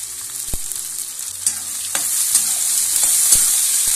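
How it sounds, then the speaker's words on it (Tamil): Loud, steady sizzling of onions and garlic frying in a hot pan, with occasional scrapes and knocks of a spoon stirring, no voices. "இது எல்லாத்தையும் சேர்த்து நல்லா வதக்கிக்கலாம்."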